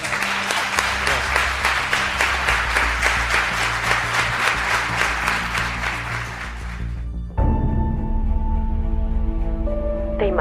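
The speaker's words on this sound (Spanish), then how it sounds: "Un aplauso" An audience applauds at the close of a neuroscience talk, sustained dense clapping for about seven seconds before it cuts abruptly to a different, tonal sound.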